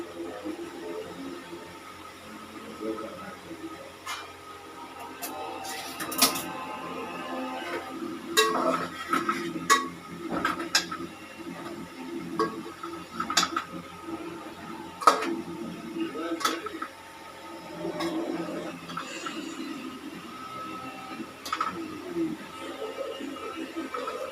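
Pasta is served from a cooking pan onto a plate, with light metallic clinks, taps and scraping of a utensil against pan and plate, fairly close and soft against a quiet kitchen background.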